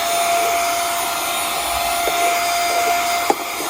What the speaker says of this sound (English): let's sit down here and see the practical use of this vacuum. So just turn it on and watch.